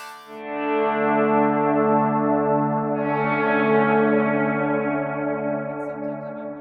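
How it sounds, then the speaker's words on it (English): Guitar played through a pad effect on a Line 6 HX Stomp, a lush sustained wash of layered harmonic tones swelling in and holding steady, with a brighter chord change midway, loud and alone. "The pad sound sounds like this."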